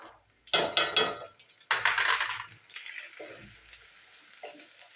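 Food frying in a pan with ginger paste, green chillies and a little turmeric: metal clatter and scraping from stirring, then a steady, close hiss of sizzling oil.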